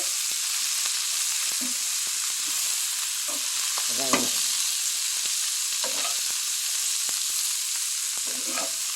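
Chopped, rinsed cabbage sizzles and hisses in a hot pan of tempered spices, with a steady frying hiss broken by scattered stirring scrapes and clinks of the spatula.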